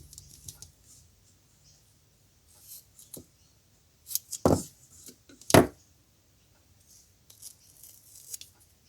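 Small scissors snipping tatting thread: a few crisp close clicks and two sharper cuts, separated by quiet handling rustles in a still room.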